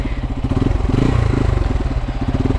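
A 250 cc motorcycle engine running close and loud, a steady pulsing thrum with rapid regular firing beats throughout.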